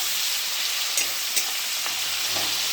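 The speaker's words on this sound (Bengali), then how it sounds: "পেঁয়াজটা একটু ভাজা ভাজা হোক" Onion frying in a pan, a broad steady sizzle with two or three sharp spatula taps, close and alone with no voices.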